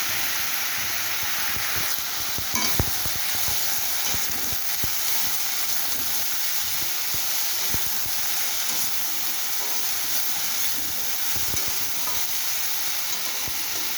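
Teasel gourd frying in a pan with turmeric powder, salt and green chillies: a steady close hiss of sizzling oil with occasional crackles and pops throughout.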